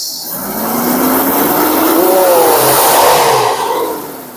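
A Daihatsu Feroza engine fitted with a Blackcore device revs hard, rising and falling in pitch across several seconds, loud and close with a steady roar and no talking.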